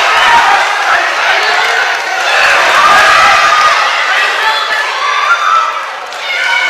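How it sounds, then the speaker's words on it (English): A boxing crowd roars and cheers a fighter at a live professional bout, a loud, sustained wash of massed voices swelling and dipping without a break. "And every single punch he lands, he's being roared on by this crowd."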